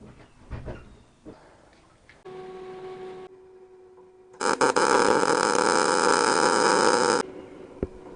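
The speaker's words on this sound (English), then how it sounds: "I'm going to weld this." Welding on a Honda Z50 mini bike build gives a steady, loud crackling buzz lasting a few seconds after shorter bursts and clicks, close to the listener.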